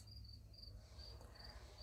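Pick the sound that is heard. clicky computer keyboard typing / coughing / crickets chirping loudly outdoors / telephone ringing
crickets chirping loudly outdoors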